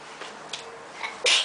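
A single sneeze, close and fairly loud, comes at the end after a brief stretch of quiet breathy room sound.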